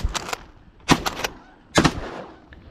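Shotgun blasts during a Pennsylvania goose hunt, three close sharp shots in quick succession with pauses between, loud and alone with no talking over them.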